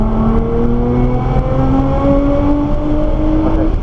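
A Nissan GTR accelerates hard down a track straightaway, its loud engine note climbing steadily in pitch through a sustained, unbroken pull with no one talking.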